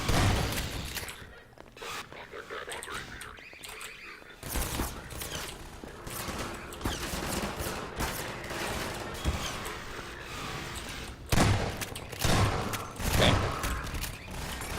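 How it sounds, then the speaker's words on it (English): Repeated shotgun blasts and scattered gunfire from Half-Life 2, loud and choppy, arriving in bursts with sharp peaks near the start and again around twelve to fourteen seconds, amid other in-game clatter. "Shotgun sometimes effective."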